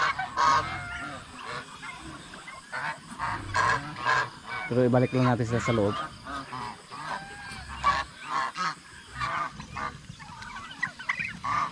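Farm ducks near their feed give repeated loud, nasal honking calls in irregular bursts, close by, while someone talks over and between them.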